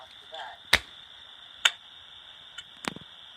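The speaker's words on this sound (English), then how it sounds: "Now I'm gonna act like I dropped a bag." A bag dropped and set down outside a house, picked up by a doorbell camera: a few sharp, isolated thumps and knocks with gaps between them over a steady electronic hiss, fairly faint and distant.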